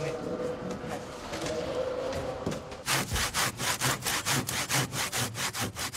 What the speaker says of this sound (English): The rotten sections are cut away, and new timber is fitted.